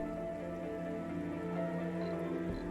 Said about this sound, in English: Oh, there is a toxic rain.